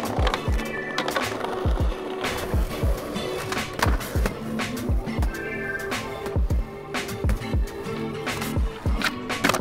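Skateboard rolling on tiled ground at a DIY skatepark, loud and close, with a steady gritty roll broken by rhythmic clacks as the wheels hit tile joints, plus occasional board knocks.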